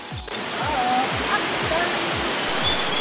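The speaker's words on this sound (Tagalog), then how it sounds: "Explore na natin ang Kaparkan Falls." Kaparkan Falls waterfall roars in a dense, constant rush close by, with a low rhythmic thumping underneath and faint voices in the background.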